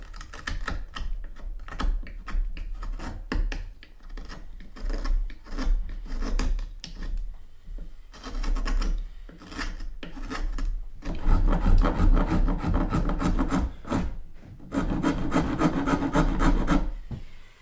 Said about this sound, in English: Rasper is a useful tool for taking off quite a lot of material in one go.